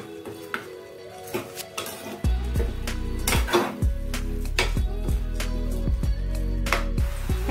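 A spoon stirring washed toor dal into bottle gourd pieces in a metal pot, with light scraping and clinking strokes, soft at first, then a steady, louder run of rhythmic scrapes against the pot, no voices.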